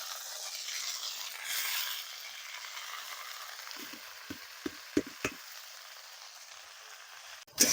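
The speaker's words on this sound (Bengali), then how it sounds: "শাকটা দিয়ে দিচ্ছি কড়াইয়ের মধ্যে" Greens tossed into a wok of frying chopped onion set off a soft, spreading sizzle that fades, followed by a handful of sharp taps and stirring knocks and one louder clatter at the end.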